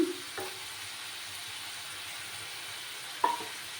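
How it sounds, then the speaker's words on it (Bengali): Eggplant and masala sizzling quietly in a pan, with a soft continuous fry and a few brief scrapes as the mix is stirred. "এবার আমি ঢাকাটা সরালাম একটু নাড়াচাড়া করে দিলাম"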